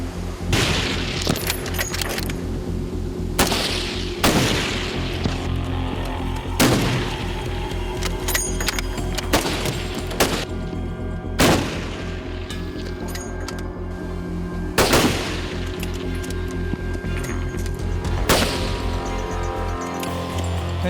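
Sharp rifle shots crack one after another at irregular intervals from the deck of a rolling navy ship, each loud report ringing out over a steady wind-and-engine rumble.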